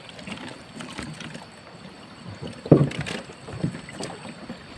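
A small boat moves on the water at night while fish-trap bottles are pulled up, with soft splashing and knocking, a louder splash burst midway, and light wind noise.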